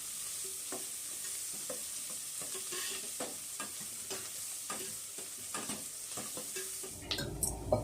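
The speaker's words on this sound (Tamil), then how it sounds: "பூண்டு வெங்காயம் நல்லா வதக்கிக்கலாம்." Garlic and onion sautéing in a pan for Tamil brinjal kara kulambu, a steady close sizzle with repeated scraping stirs of a spoon against the pan, and a louder clatter near the end.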